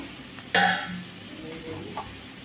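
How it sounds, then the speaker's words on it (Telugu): Green beans frying over medium flame in a covered pan, a sudden close burst of sizzle and stirring as the pan is worked, settling into a low steady crackle with a brief clatter near the end, a faint voice beneath. "మూత పెట్టుకొని మీడియం ఫ్లేమ్లో పెట్టుకొని అయితే వేయించుకుందాము మధ్య మధ్యలో కలుపుతాం"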